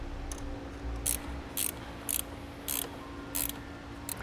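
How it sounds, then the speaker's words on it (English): A wrench tightening a nut on a battery terminal while fitting a battery charge line kit, five or six short metallic ratchet bursts at a steady rhythm over a constant low hum, with no talking. "And we'll tighten the nut back down."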